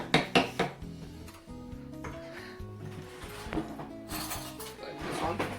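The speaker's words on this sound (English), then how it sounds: "We're gonna dollop these onto a baking sheet, or a couple of baking sheets." A spoon dollops chocolate chip cookie dough onto a baking sheet, with soft clinks and scrapes of metal on the sheet and bowl in irregular taps, while people talk quietly in the background.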